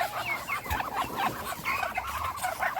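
Three-month-old chicks being let out of their cage, giving a dense, continuous chorus of cheeping and soft clucking close by, with light pattering movement and no talk.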